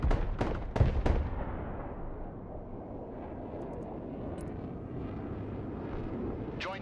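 Bombing air strike in a military video game, opening with several sharp, heavy blasts close together, then settling into a long, loud rumbling roar of jet and explosion noise that carries on steadily to the end.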